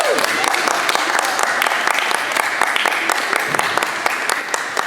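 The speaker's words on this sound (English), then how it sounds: "Round of applause for Alabama Aviation Aerospace High School." Sustained audience applause for a high school drone soccer team at a district championship event, dense clapping throughout with a voice speaking over it.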